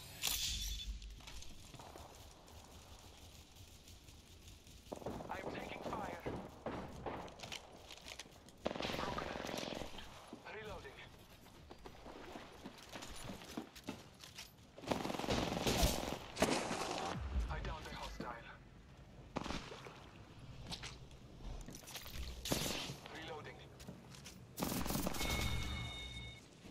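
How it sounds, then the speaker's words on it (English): Incoming gunfire in an Apex Legends match, repeated bursts of rapid shots and single cracks coming in waves over nearly half a minute, mixed with footsteps and game noise while a player talks throughout. "I'm taking fire."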